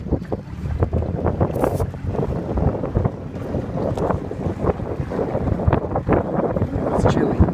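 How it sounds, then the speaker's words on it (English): A Zodiac inflatable boat with a 40 hp Yamaha outboard runs on cold water, its steady motor drone mixed with heavy wind buffeting against the microphone throughout, and some faint voices. "We're gonna test drive the Zodiac with the 40 horse Yamaha."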